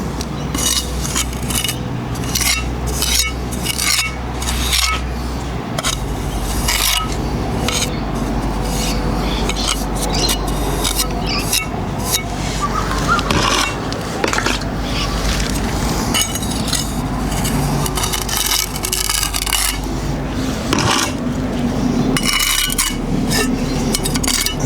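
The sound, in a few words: shaping wall repair filler with a wet trowel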